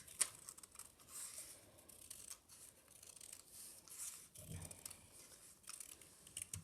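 Scissors snip through paper while cutting out pieces for a jointed dragon puppet craft, with close, quiet, irregular cuts and crinkling over several seconds and no talking.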